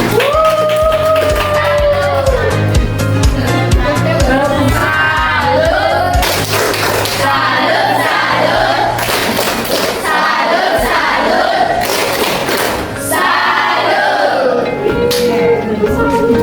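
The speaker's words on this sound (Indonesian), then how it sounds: "Tepuk salut dulu untuk temannya." Schoolchildren in a fifth-grade Indonesian language class give a loud, rhythmic clapping salute chant, sharp claps and shouted voices filling the room close up, with a teacher's voice and classroom noise mixed in.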